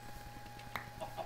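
Chickens clucking in the video game Minecraft, a few soft short clucks scattered over a low steady background hum, fairly faint with no talk.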